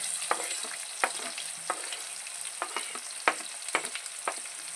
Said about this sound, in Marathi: आता त्याच्यात घालूया आपण कांदे. कांदे लांब लांब कापायचे.